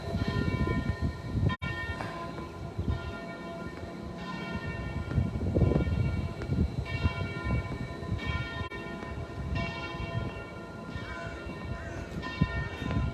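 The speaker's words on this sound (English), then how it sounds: "And now the beautiful Jerusalem bells" Church bells of St. Salvador in Jerusalem ring repeatedly for 6:15 in a slow, resonant pattern with lingering overtones, over a murmur of background noise and occasional knocks.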